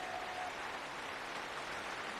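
A canned applause effect triggered by a button plays as a steady wash of clapping, fairly faint and even throughout, with no voices over it.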